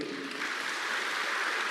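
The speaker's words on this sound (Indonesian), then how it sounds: "Yang setuju tepuk tangan bagi dia." Church congregation applauding during a sermon, a continuous blended wash of many hands clapping, steady and fairly loud throughout.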